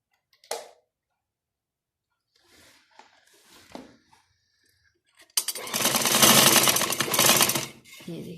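A sewing machine stitches a girl's frock. A few light taps and handling clicks come first, then a loud, close, rapid mechanical whirr runs for about three seconds before easing off.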